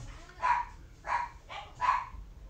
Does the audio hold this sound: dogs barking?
yes